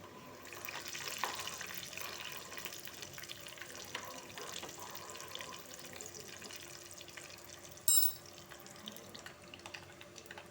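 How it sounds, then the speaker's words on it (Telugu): Urad dal and chana dal frying in hot oil with cumin for a tempering, a steady soft sizzle with faint stirring, a brief clatter near the end, no voices. "కొద్దిగా మినపప్పు, అలాగే శనగపప్పు చక్కగా వేయించుకోవాలండి"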